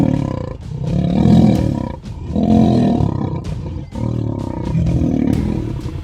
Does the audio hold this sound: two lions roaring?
yes